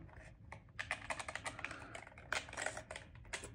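Rapid, uneven bursts of keystrokes clatter close up on a budget Silakka54 prebuilt split keyboard from AliExpress fitted with gray switches, the typing heard alone without talk.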